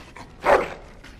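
A dog in the Dragon Age video game gives a single short bark, loud and close, rising sharply out of quiet and fading quickly, with no one speaking.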